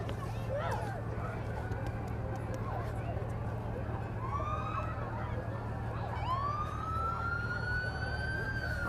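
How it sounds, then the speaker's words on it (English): EMS emergency vehicles at a 2023 Christmas parade in Red Boiling Springs sound their sirens, which rise and wail in long sweeps at a moderate distance over the steady murmur of a crowd with voices talking. "I hear the sirens"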